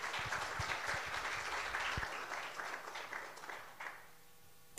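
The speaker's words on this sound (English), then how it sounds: "So please give a round of applause for Reverend Lohman." A church congregation claps in steady, dense applause that gradually fades out, with no talking over it.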